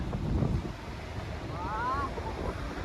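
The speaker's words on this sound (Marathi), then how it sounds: "बघा हा समुद्र." Sea surf washing onto a Konkan coast beach under a gusty wind rumble, a steady broad roar with a faint whistle-like tone rising briefly in the middle.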